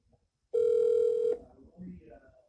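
A single steady ringback tone sounds for almost a second on an outgoing telephone call, loud and clear, then cuts off into faint low background noise.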